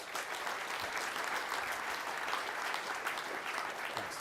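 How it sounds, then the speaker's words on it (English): Audience applause at a Wii U preview presentation in New York, a steady even patter of many hands clapping throughout, moderately distant and without voices on top. "So, round of applause for Jason and Jacob."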